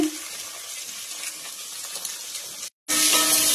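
Dried red chili, cumin, bay leaf and chopped onion frying in oil for a Bengali masoor dal, a dense steady sizzle close by that cuts out briefly and returns louder, with no voices.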